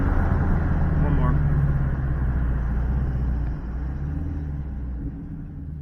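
Low, heavy engine rumble from a Dodge Challenger R/T with a 5.7L V8 HEMI during a 0-60 launch, steady and loud from inside the car, easing slightly partway through, with a voice talking over it.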